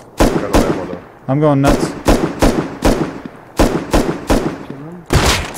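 Gunfire in the survival game Rust, during a 12 versus 3 battle: a series of sharp, loud single shots, roughly nine in irregular rhythm across several seconds, with someone talking briefly between them.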